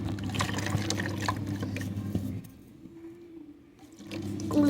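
Water poured into a fish tank, a steady close splashing pour with a strong low rushing tone that drops to a quieter trickle midway before swelling again near the end.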